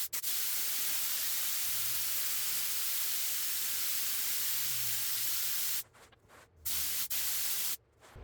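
Contact adhesive sprays onto a car headliner in long, loud, continuous hissing bursts, close by, with short pauses between passes.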